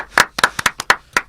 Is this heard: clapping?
yes